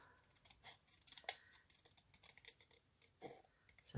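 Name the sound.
scissors cutting out paper gloves for a collage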